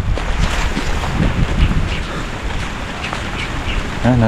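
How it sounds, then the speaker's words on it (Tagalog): Strong typhoon wind roars continuously across a vegetable farm with upo gourd, okra and string bean plants, loud buffeting gusts hitting the microphone with no pause. "Lakas sa hangin mga buddy, galing dito yung hangin, papaganyan."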